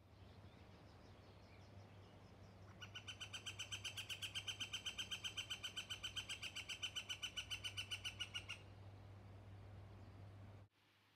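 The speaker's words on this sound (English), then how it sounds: "there is a woodpecker hanging out on a tree calling." A northern flicker woodpecker calls from a tree along a riverbank trail, giving a long, rapid, evenly spaced series of loud piping notes that stops abruptly after several seconds, over a quiet, low background hum.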